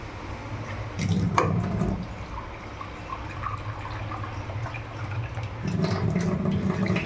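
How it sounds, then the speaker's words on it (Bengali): Water is poured into a pan of cooking drumsticks (moringa pods) with potatoes, a splashing, running pour in two bursts with a quieter simmering stretch between, close and moderately loud. "সজনের ডাঁটা দিয়ে এবার জল দিয়ে দেবো, আর একটু জল লাগবে।"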